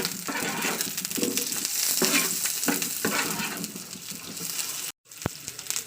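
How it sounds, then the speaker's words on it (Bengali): Cut potato frying in oil on low gas for a fish chochori, a dense crackling sizzle with occasional stirring scrapes, briefly cut off by a gap near the end before resuming. "এই তেলের উপরে আলুটাও কিছুটা ভেজে নেবো"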